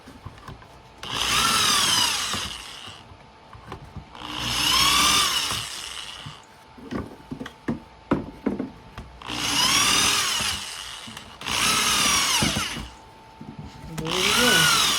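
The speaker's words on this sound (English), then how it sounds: "I just drilled through my table" A power drill whines in five long bursts, biting through wood and into a table with a rising grinding pitch, separated by clunks and handling knocks.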